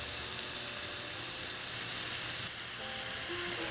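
About a pound of medium shrimp seasoned with salt and black pepper sizzle steadily in a hot pan, a constant bright frying hiss with no pauses.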